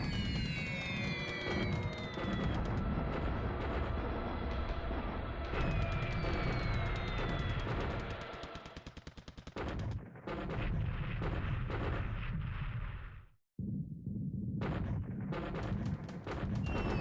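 Bombing attack sounds from War in the Pacific during a Pearl Harbor strike, with dense, loud rumbling blasts and crackling bursts continuing almost nonstop, and brief dropouts near the end, with no voices.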